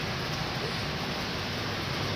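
Steady, even hiss of rain falling outdoors during fruit picking, continuous and unbroken with no voices.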